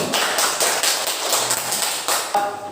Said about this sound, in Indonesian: beri tepuk tangan untuk kelompok hijau.